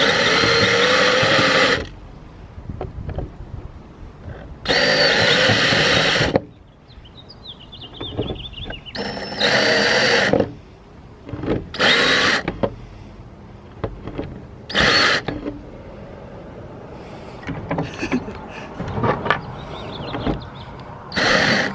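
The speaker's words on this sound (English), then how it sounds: "Yeah, so now we just got to drill downward." Power drill boring holes into a trailer fender during an upgrade on a HadesOmega HF Battle trailer, several loud whirring bursts separated by pauses and quieter handling clatter.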